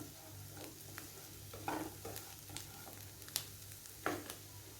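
Lima bean masala with fresh coriander is stirred lightly in a pan, giving faint, scattered spoon scrapes and soft sizzling over a steady low hum.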